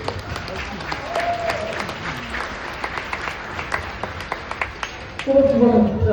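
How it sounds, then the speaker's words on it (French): An audience claps steadily at a veterinary procedure on two female animals, a soft, continuous patter that swells near the end as a voice joins in. "je propose qu'on applaudisse nos 2 femelles"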